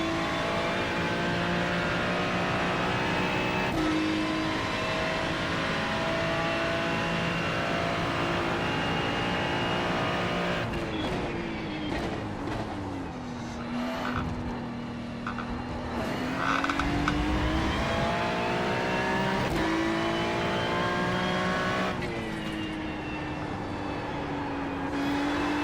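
A BMW race car engine drones at steady high revs around a circuit, its pitch rising and dipping through gear changes and corners, loud and continuous with no talking.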